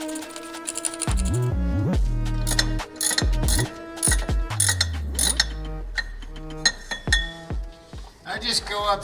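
Ratchet wrench tightening bolts on a Jeep Wrangler pinion during a seal replacement, close clicking ratchet bursts and metallic clinks in irregular runs, with music playing alongside.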